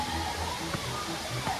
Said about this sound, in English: this is the only waterfall in the Smokies that the trail goes behind